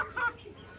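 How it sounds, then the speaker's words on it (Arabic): An ornamental chicken gives a single short cluck, close and clear over a quiet background. "هذا بالوني هذا الدجاج."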